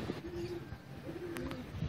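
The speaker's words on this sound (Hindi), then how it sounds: "तो अभी इनको उड़ाया तो एक ये उड़ गया है, एक वो बड़ा कबूतर साथ में उड़ा है." Pigeons give a couple of low, close coos, with a brief flutter of wings as birds take off.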